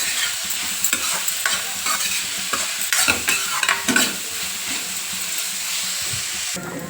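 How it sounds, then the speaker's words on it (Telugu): Food sizzles and fries in an oiled pan with a pinch of salt while an egg masala curry is being prepared, with steady crackling and a spoon stirring and scraping now and then, close and fairly loud. "కొంచెం ఉప్పు వేసుకొని ఫ్రై చేసుకోవాలి"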